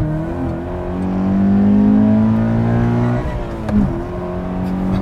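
A 2019 Subaru BRZ RAIU Edition engine revs up steadily and builds during a launch, then drops briefly and pulls again as it accelerates, loud and close.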